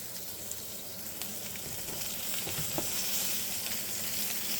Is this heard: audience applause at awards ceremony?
no